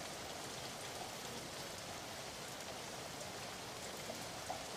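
Steady rain falls outdoors, a continuous soft hiss of drops pattering on surfaces with no break, fairly faint and uniform throughout.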